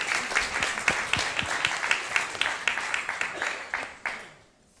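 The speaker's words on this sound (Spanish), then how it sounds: "Aplauso, aplauso." Audience applause after a talk, a moderate crowd clapping in a fairly steady, slightly uneven rhythm with distinct individual claps, fading quickly to silence at the end.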